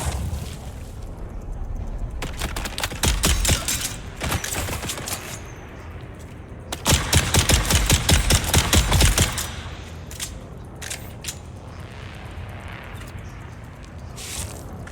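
Automated turret in Dune: Awakening firing rapid bursts of shots, two longer volleys of sharp repeated cracks separated by quieter gaps with scattered single shots, fairly close and without talk.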